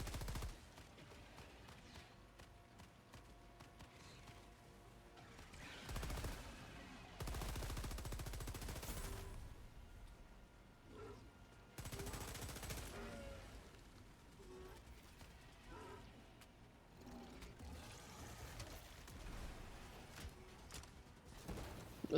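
Gunfire in a video game, a teammate shooting in short loud bursts of automatic fire between quieter ambient game sounds, with a little talk.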